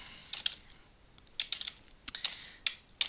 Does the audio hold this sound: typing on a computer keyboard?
yes